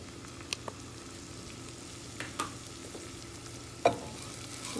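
A spoon stirs potatoes into a snake gourd curry in a pan, with a low steady sizzle and a few sharp scrapes and knocks against the pan, close and alone.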